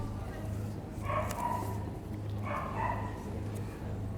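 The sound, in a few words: Maremma sheepdog barking at dog show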